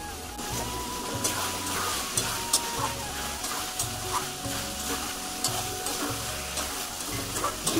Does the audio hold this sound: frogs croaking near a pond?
no